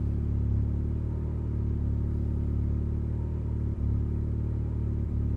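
A 280 hp turbocharged Mazda MX-5 Miata running 25 psi of boost cruises along a road, its low, even engine hum and rumble droning steadily from within the cabin, with a couple of faint brief bumps.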